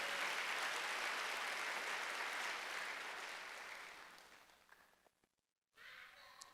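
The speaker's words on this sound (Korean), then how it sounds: "박수." Applause from a church congregation at a Wednesday worship service, a broad steady clatter of many hands that fades over several seconds, drops briefly to near silence, then resumes faintly.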